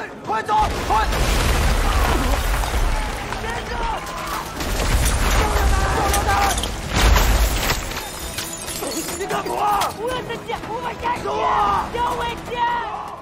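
Booming cannon blasts and bursts of gunfire crash through a loud battle scene at a Shanghai warehouse in a Chinese war film, with shouting voices and dense rumbling layered throughout.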